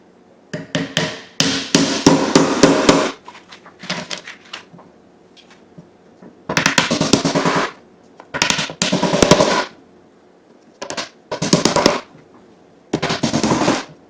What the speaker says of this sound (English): I'll go ahead and finish nailing all this.